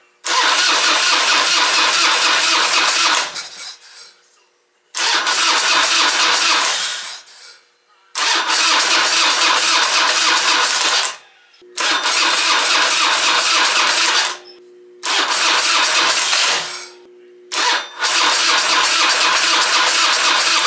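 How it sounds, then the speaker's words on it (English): Harley Dyna motorcycle engine, freshly fitted with a carburetor and running on a new battery, cranking and catching in six loud bursts of starter whir and rough firing, each separated by brief silences. "it definitely obviously started with a little bit of that in there"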